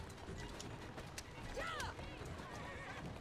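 A horse whinnies once in the video game Assassin's Creed Syndicate amid a busy, noisy background, with hooves clip-clopping and a voice talking over it.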